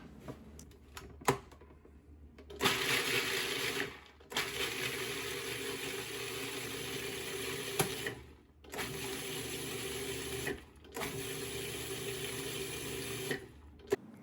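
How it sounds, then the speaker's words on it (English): A food processor grinds walnuts for a pie crust in short pulses, several loud whirring bursts separated by brief pauses, each cutting off sharply. "Grind the walnuts in a food processor"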